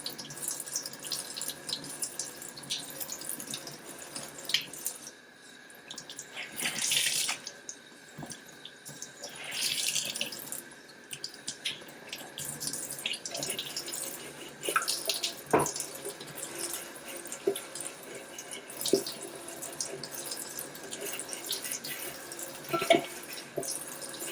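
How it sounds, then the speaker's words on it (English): Running water rinses LizardSkin coating off metal while it is applied to a 2000 Ford F-350, a steady close splashing and hissing stream with brief louder gushes, dripping and faint knocks throughout. "You want to rinse it as soon as you can just to keep stuff from curing into the metal."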